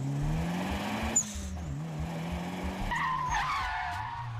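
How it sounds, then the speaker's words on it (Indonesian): Tires squeal and skid as a Toyota AE86 and an E3 race each other down a mountain road, a sustained screech over engine drone with a rising whine near the end. "Sesi kejar-kejaran pun kembali terjadi. Dan seperti biasa, Takumi mampu membawa AE86 menempel dengan E3."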